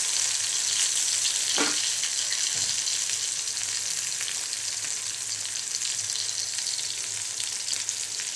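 Whole small onions frying in hot oil in a pan for a Maharashtrian brinjal curry with black masala, giving a steady, fairly loud sizzle throughout with a few faint stirring scrapes.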